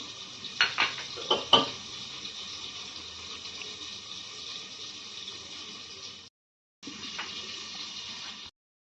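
Ground turmeric, cumin, Kashmiri red chilli and ginger are mixed with water in a bowl, a spoon clinking and scraping against the bowl in a few sharp knocks over a soft watery background, with a short silent gap.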